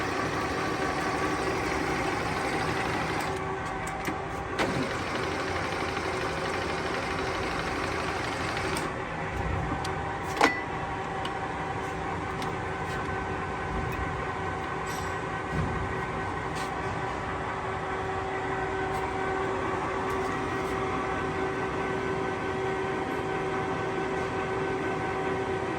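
A 1998 Kingston HR3000 lathe with 40 by 120 inch capacity feeds its carriage in a steady, continuous machine hum with a constant drone, one sharp knock partway through, and no voices.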